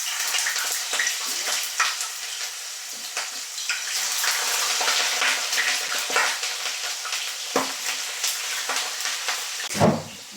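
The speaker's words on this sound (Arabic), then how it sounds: "نرد البطاطا تسقلا" Sliced potatoes fry in a pan of hot oil with a constant close sizzle, broken by occasional clatters and scrapes as they are stirred and turned.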